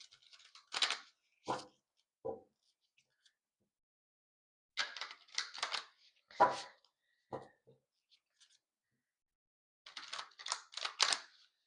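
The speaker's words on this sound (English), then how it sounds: "Let me just shuffle." Soft bursts of shuffling card sounds come in three short clusters, riffling and snapping close by, separated by quiet pauses.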